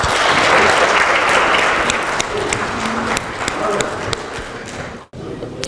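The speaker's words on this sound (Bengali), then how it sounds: "আমরা সবাই একটা জোরে করতালি দেই।" An audience at a Toronto theatre premiere bursts into loud, sustained applause, a thick wash of many hands with a few sharper claps poking through, holding steady before cutting off abruptly near the end.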